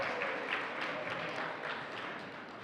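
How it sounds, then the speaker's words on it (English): Conference audience at a technology summit applauding, steady mid-distance clapping from a seated crowd that holds evenly throughout, with no talking over it. "So let's do a big round of applause for all the Wi-Fi."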